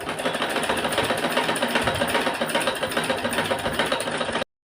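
A sewing machine runs steadily, stitching the front panel of a four-tuck blouse made from an old suit, its fast rhythmic needle chatter continuous and close until it stops abruptly near the end.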